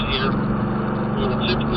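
Ford Mustang engine picking up speed after leaving the track, a steady loud roar with heavy road and wind noise, while a voice talks over it.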